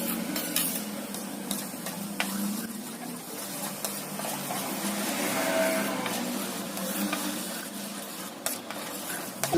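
Kozhukattai dough of rice flour stirred and pressed in a pan, with soft scraping, dull pushing and faint sizzling over a continuous background hum, close and without talk.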